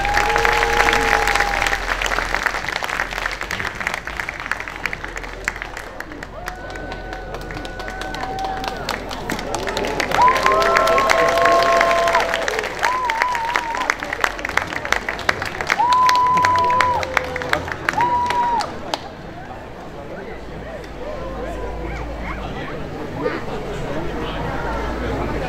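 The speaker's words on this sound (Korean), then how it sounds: "뜨거운 박수 부탁드립니다" A crowd at the Itaewon Global Village Festival in Seoul, during a Ukrainian performance, claps and cheers loudly for around twenty seconds, with whistles and voices mixed in, before the applause thins and people talk.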